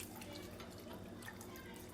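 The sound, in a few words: water being poured into a pot of gravy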